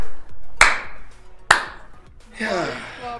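Two sharp, loud hand claps about a second apart, followed by a voice speaking close by.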